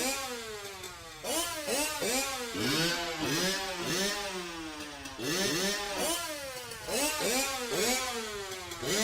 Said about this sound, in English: performed this afternoon by Peter Griffin and his dirt bike